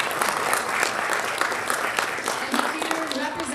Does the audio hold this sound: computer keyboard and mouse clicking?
no